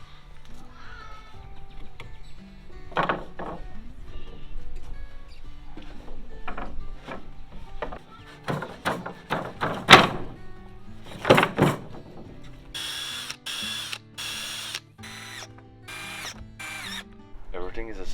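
Hardware being installed as hinges go onto a pull-out couch: a run of clicks, ratcheting and mechanical clunks at close range, ending in sharp repeated bursts of a power driver or drill.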